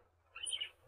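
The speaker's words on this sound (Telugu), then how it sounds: "వీళ్ళు లవ్ బర్డ్స్ కూడా పెంచుకుంటారు ఇంత మంచిగా" A pet lovebird in a village house gives a brief high chirping call, close and fairly faint against a quiet room.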